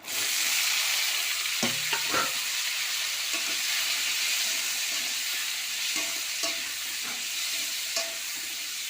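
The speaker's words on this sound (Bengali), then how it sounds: "আলু পেঁয়াজটাই প্রথমে ভেজে নেব।" Potatoes and onions fry in mustard oil in a kadai, giving a steady close sizzle throughout, with a few scraping stirs and clinks of a utensil against the pan.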